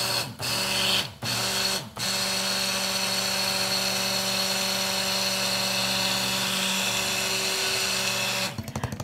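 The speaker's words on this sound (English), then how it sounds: "So I'm gonna turn my stick blender on." A stick blender whirs steadily while mixing cold process soap batter rich in coconut oil, a loud continuous motorized hum with a few brief cutoffs at the start and the motor stopping near the end.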